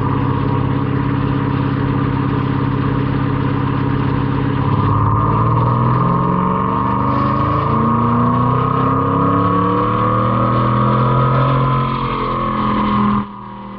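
A Ford 7.3L Godzilla V8 in a test truck with a ported intake manifold running on a dyno, a loud, steady engine drone whose pitch rises through the revs before it cuts off abruptly near the end.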